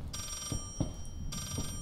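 An old-style telephone rings in the horror game Layers of Fear, two bursts of electronic bell trilling separated by a short pause, moderately loud with a dull background rumble and no talk.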